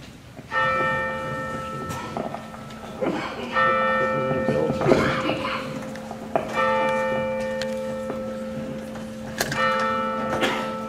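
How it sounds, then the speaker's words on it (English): A church bell at St. Mark's in the Valley tolls during an election forum, with four evenly spaced, resonant strikes that ring on between hits while soft room noise and faint murmuring continue underneath. "the bell toll first"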